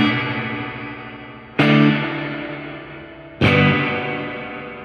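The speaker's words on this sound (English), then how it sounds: "like plate reverb around your tone, but it has a lot more reverberation" Two strummed electric guitar chords ring out through a reverb pedal with the mix knob turned far up, each swelling into a long, lush, plate-like wash that decays slowly, with no talking.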